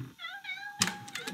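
A cat meows several times in a row: a clear drawn-out mew, then sharper calls that rise and fall. Each one sounds close and moderately loud, with soft thumping between the calls.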